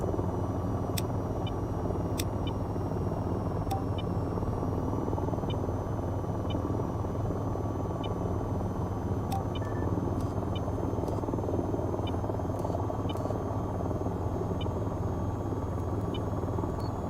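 A simulated attack helicopter in the VR flight game VTOL VR hovers with a loud, constant rotor and engine drone, steady throughout with faint periodic cockpit beeps and tones above it.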